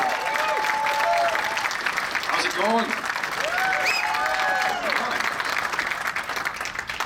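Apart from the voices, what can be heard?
audience applause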